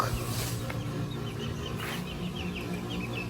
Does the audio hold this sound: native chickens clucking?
yes